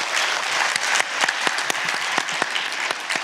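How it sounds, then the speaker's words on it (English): An audience applauds a fighter during an interview, a dense, continuous patter of many hands clapping at moderate volume, sustained throughout with no pauses. "let's give him a round of applause as well"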